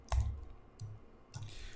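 Three sparse, crisp clicks from a computer keyboard as a few keys are typed, each a short sharp tap spaced apart in a quiet room.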